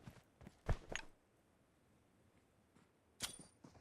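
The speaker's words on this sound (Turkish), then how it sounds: "Lan ayak sesi var." Sparse footsteps in the PUBG Mobile battle royale game, a few soft, scattered steps with long quiet gaps between them, faint and close with no talking.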